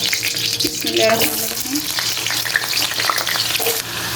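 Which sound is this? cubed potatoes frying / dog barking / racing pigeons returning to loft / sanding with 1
cubed potatoes frying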